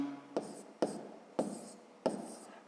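Numbers are handwritten during a fifth-grade maths division exercise: four short, scratchy strokes at a steady pace, each a quick attack that fades, quiet and close with no talk over them.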